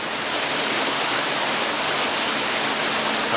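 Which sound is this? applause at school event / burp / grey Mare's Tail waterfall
grey Mare's Tail waterfall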